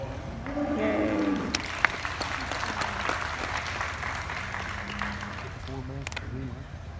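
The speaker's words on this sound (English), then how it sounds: "give him a round of applause" A crowd applauds a rider at the Tulsa State Fair, a broad sustained wash of clapping from a distance, with an announcer's voice speaking over it at the start and end.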